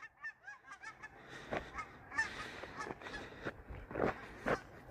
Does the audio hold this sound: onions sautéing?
no